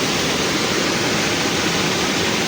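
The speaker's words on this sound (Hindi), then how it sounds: "काफ़ी तेज़ बहाव होता है पानी का" A small seasonal stream in Kashmir, normally dry, running fast and full after heavy rain. The water makes a steady, dense rushing roar that holds at an even, fairly loud level throughout, with no talk.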